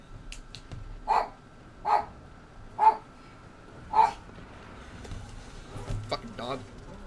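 A dog barks four times in a fairly even rhythm, each bark sharp and fairly close, then follows with a few softer whimpering yips, and a person's voice is heard nearby.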